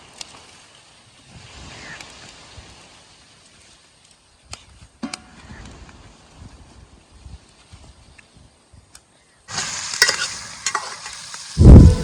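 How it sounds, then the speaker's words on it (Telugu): Goat head curry frying in a pan in Rayalaseema style, a soft sizzle with intermittent clinks and scrapes of stirring, ending in a louder burst of frying and stirring. "కలిపిన తర్వాత రెండు నిమిషాలు తవుకు వేసుకోవాలి"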